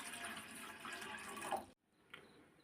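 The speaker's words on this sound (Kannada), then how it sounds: "ಇಲ್ಲಿಗೆ ಒಂದು ಸ್ಟೀಲ್ದು ಒಂದು ಪಾತ್ರೆ ಇಟ್ಕೊಂಡು 1 ಗ್ಲಾಸ್ ನೀರು ಹಾಕೊಳ್ಳೋಣ" A glass of water poured into a steel pot for ragi soup, a continuous splashing pour lasting under two seconds that cuts off abruptly, followed by a faint drip.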